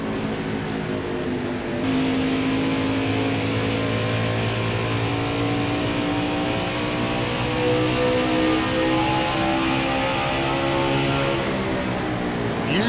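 A NASCAR Heat 5 race truck runs at Phoenix, its engine droning loudly and steadily with rising and falling pitch as it accelerates through the lap, with no talk.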